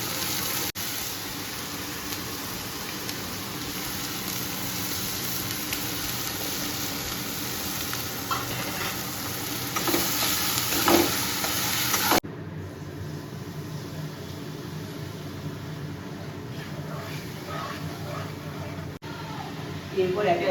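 Onions, dried chili, bay leaf and ginger-garlic paste fry in hot oil for a loitta fish curry, giving a continuous hissing sizzle that drops in level partway through.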